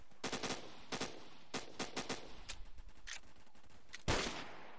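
Rapid video game gunfire crackles in quick repeated bursts, with a louder blast near the end, all fairly faint and mixed with busy game background noise.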